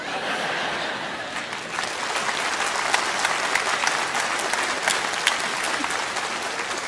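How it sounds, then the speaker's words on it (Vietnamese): Sustained audience clapping with a few scattered chuckles from a crowd at a comedy stage performance, a thick continuous patter of hands that swells slightly midway and carries on without pause. "Vì anh xã mà vỗ tay chi vậy?"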